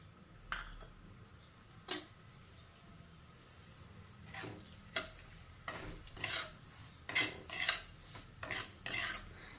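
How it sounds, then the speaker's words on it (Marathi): Semolina roasts in homemade ghee in a pan, with a soft continuous sizzle and repeated scraping strokes of a spoon against the metal that grow more frequent toward the end. "आता आपण रवा भाजून घेणार आहोत"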